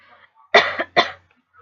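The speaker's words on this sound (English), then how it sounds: "excuse me, I got a cough." Two close, sharp coughs in quick succession, the first with a short rasping tail, followed by quiet.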